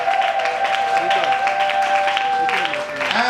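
A congregation of women at a church service acclaiming and clapping, their raised voices and ululation-like cries sounding over scattered clapping, loud and close throughout.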